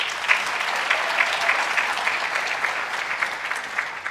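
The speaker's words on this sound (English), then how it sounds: "Let's give them a round of applause." An audience at a conference opening plenary claps together in a brief, even burst of applause, a continuous patter of many hands at moderate loudness.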